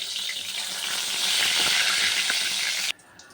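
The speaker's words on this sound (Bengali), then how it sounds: "একটা একটা করে ভাজতে হবে একসঙ্গে এত দেওয়া যাবে না" Fried snacks sizzling in hot oil in a pan, dropped in one at a time, a steady bright hiss that swells and then stops abruptly near the end.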